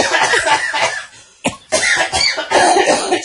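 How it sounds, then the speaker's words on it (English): A man breaks into a laugh that turns into a cough, giving a run of loud, close, raspy coughing bursts with a short gap before more wheezy laugh-coughing. "It's the laugh cough."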